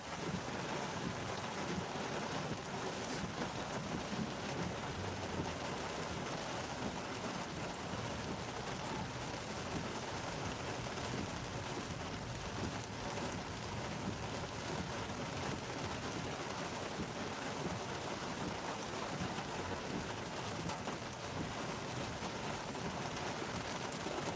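Heavy rain falls over Manila amid rising floodwater, an unbroken dense roar of drops and wind-buffeted hiss holding steady from start to finish with no voices.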